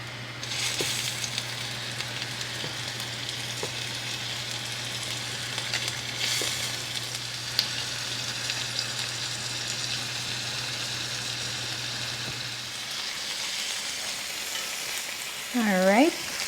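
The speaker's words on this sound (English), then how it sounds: "to sear my pork chops for about a couple of minutes per side" Pork chops sear in a hot pan, giving a loud, steady, close sizzle that crackles without a break for a long stretch, over a low hum.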